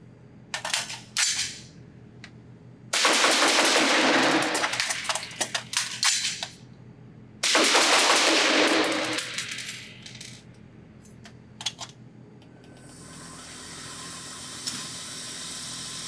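A Cobalt Kinetics SPR Elite 6mm ARC precision AR rifle fires at an outdoor range: a few single shots, then two long bursts of rapid, sharp cracks separated by a pause, followed by scattered shots and a fading hiss.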